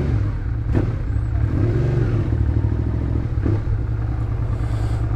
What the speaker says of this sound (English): that was the first start up of the bike